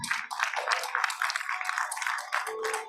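Parents clap and cheer for the children at a pre-primary school convocation, a steady wash of applause filling the hall, with no one speaking over it.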